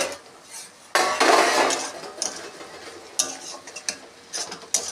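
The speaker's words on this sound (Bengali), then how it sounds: "ঢাকনাটা খুলে দিচ্ছি" Metal pan lid lifted off a pan of okra and potato cooking, a sharp scraping clatter near the start followed by lighter clinks and rattles of cookware, close and fairly loud, with no talking.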